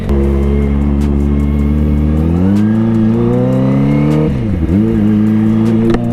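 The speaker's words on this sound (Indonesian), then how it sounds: "Kita ngantar Mentari pakai ZX25R guys." A Kawasaki ZX25R motorcycle's engine drones loud and close, its pitch climbing steadily as the ride gets under way, then dipping sharply at a gear change before rising again.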